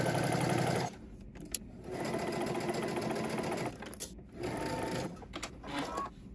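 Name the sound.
sewing machine stitching side seams of a flounce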